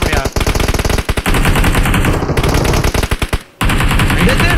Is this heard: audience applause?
no